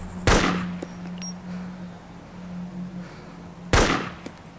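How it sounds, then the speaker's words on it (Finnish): Two loud, sharp gunshots from a magnum in the survival game DayZ, spaced a few seconds apart over a low steady hum. "Mä ammun sen."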